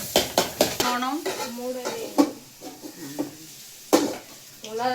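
A girl sautés food in a pan in a home kitchen, with a few scraping, clattering strokes of the spatula against the pan and a faint sizzle underneath steady conversational talk.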